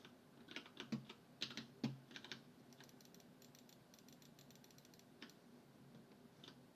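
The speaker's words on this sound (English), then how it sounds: "you can hear me clicking the buttons like a lot" Keyboard keys clatter during World of Warcraft play as a Protection Paladin. Quick bursts of close clicks come in the first couple of seconds, then thin out to scattered taps, with no voices.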